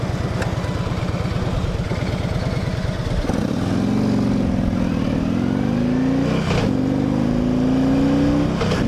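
A 2008 Harley-Davidson Ultra Classic Electra Glide rumbles loudly while being ridden, its engine pulsing low and then rising in pitch as it accelerates, with constant wind rush over the steady drone.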